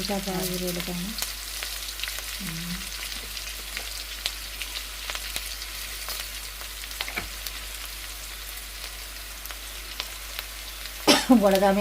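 Ingredients for a sungan fish curry being sautéed in a pan, giving a steady low sizzle and frying crackle throughout with occasional stirring scrapes, and a brief louder clatter near the end.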